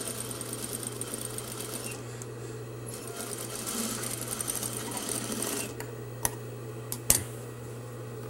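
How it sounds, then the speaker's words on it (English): A sewing machine stitches fabric and bias tape with a steady, close mechanical whir and rapid needle ticking that runs throughout, ending with a few sharp clicks. "when I place this piece of fabric right here and sew either on the edge like this"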